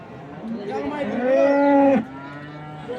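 A cow lets out one long, loud moo that rises and then cuts off, with quieter background noise continuing afterward.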